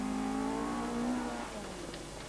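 A 1984 rally car at the Ashley Forest Rallysprint revs hard on a forest stage, its engine note droning steadily then easing as it moves away, with no talk over it.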